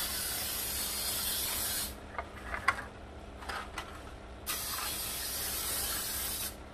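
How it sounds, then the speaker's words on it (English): Cooking spray hisses onto baking pans in a home kitchen, one long loud burst, a pause with light clinks and rattles, then a second sustained spray, close up. "I'm going to spray these pans."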